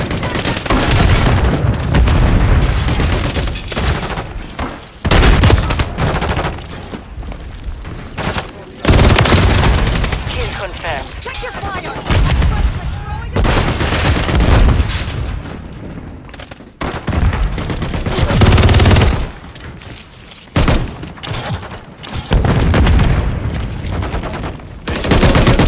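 Call of Duty gunplay erupts in loud, dense bursts of automatic gunfire and heavy booms that run almost continuously, broken by only brief lulls.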